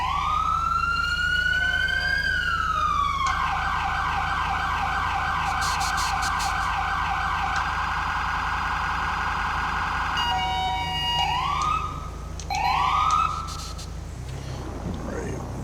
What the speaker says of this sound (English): here's my siren package that I have installed. It's the LAPD siren package.